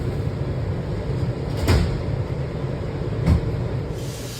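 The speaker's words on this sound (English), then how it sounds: "Step back. Doors open." Metro train doors slide open at a station, two short whooshing thuds a couple of seconds apart over a steady rumbling hum of the train interior.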